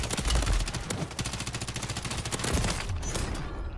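Machine gun fire in the Warzone video game, a loud, continuous rapid burst of automatic shots that runs for several seconds.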